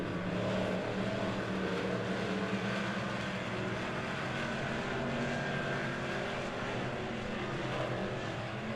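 Race cars battle on the Monett Motor Speedway dirt track, their engines blending into a dense, continuous roar heard from a distance at moderate volume.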